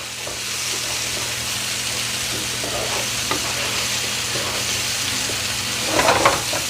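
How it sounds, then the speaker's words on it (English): Mushrooms sauté in a hot pan, giving off a steady, even sizzle throughout, with a few louder crackling spatters near the end. "Okay, I'm just going to saute these up a little bit."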